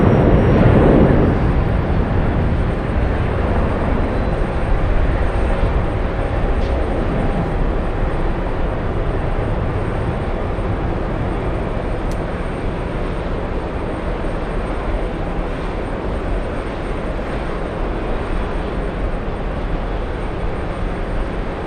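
An Airbus A350 airliner in from Hong Kong at JFK produces a continuous broadband engine roar, loudest at the start and easing slightly as it goes on, with no voices.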